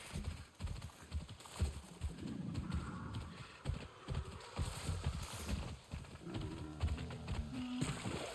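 Hooves of a hard-to-control horse in the video game Avatar: Frontiers of Pandora clip-clop in an irregular rhythm, fairly close, with soft ambient game sounds and a brief tonal cue near the end.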